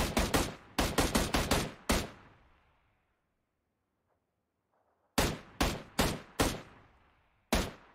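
Heavy gunfire in the PUBG Mobile video game: a rapid string of sharp, loud shots, a pause of about three seconds, then several more spaced shots.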